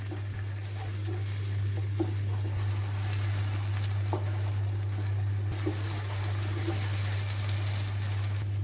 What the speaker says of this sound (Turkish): Kavuruyorum.